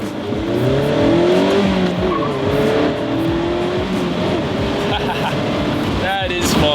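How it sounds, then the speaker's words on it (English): A 2016 Mazda MX-5 Miata accelerates with the engine note climbing through the gears, loud and close from inside the cabin, a brief shift break near the end while someone speaks over it. "let me do a quick little acceleration here"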